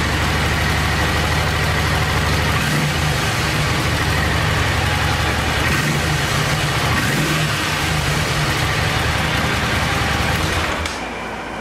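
A 1986 Honda VT500 Shadow motorcycle engine idles up close with a steady low throbbing rumble and slight rev swells, running on one cylinder after repair work, before cutting off near the end.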